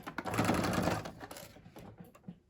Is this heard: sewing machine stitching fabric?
yes